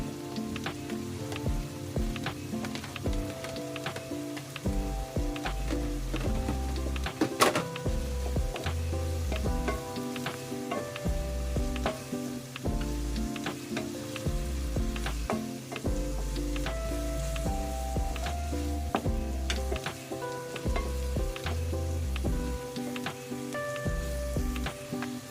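Chili going into pork sisig frying in a pan, a steady crackling sizzle with occasional stirring scrapes running continuously, close and moderately loud with no talking.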